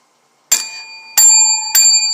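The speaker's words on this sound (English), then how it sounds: "I'm finna hit the bell because I'm happy for wedding bells." Three bright, ringing bell strikes sound one after another at a slightly uneven pace, each with a sharp attack and a sustained metallic tone that keeps ringing over the next strike, with no voices.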